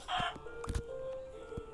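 A chicken in the video game Minecraft gives a few short, bright clucks near the start, followed by scattered softer game noises and a faint steady tone.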